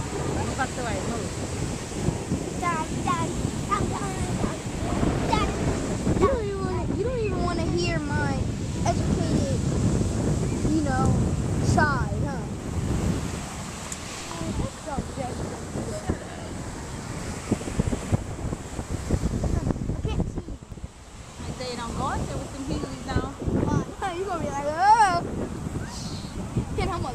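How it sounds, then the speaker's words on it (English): Ocean surf rolls in continuously at a beach under strong wind buffeting the microphone, with people talking over the steady wash of waves throughout. "It's just the wind pushing it towards us, and then that makes a wave."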